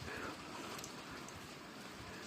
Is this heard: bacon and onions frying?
no